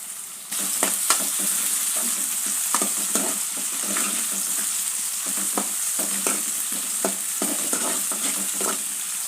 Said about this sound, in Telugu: కొంచెం కరివేపాకు బాగా వేపుకోవాలి అల్లం పేస్ట్